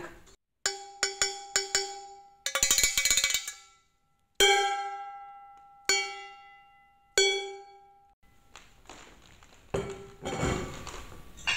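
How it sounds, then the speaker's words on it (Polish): A cooking pot struck with a wooden spoon rings out in bright metallic hits with long decays, first as quick taps, then a fast rattling burst, then slower single strikes left to fade, ending in a scraping wash. No voices. "Wystarczy, że weźmiecie drewnianą łyżkę i garnek."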